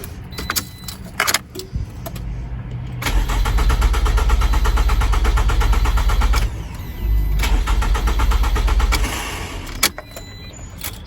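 A 2009 Pontiac Vibe with a crank-no-start fault and suspected lost fuel pressure: keys jangle, then the starter cranks the engine in two long, loud bursts that never catch, with short pauses between.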